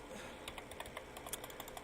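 Computer keyboard keys tapped in a quick, light, irregular run of close clicks, faint and without talk.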